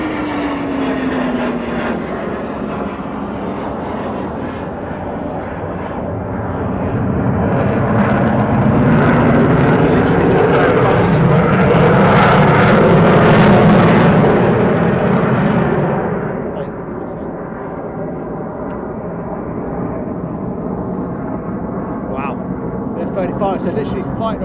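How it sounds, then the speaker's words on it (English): An F-15 fighter jet passes overhead at RAF Lakenheath, a loud roaring rumble that builds, peaks close above and fades, with someone talking over it. "sorry, F-15 going over the top."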